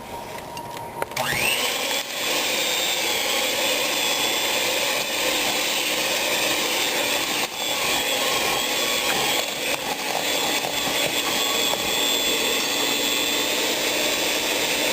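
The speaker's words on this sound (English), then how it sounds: "And I'm going to combine that with my mixer slowly." An electric hand mixer whirs steadily at low speed while combining red velvet cupcake batter, a constant close motor drone that starts abruptly and runs without pause, no voices.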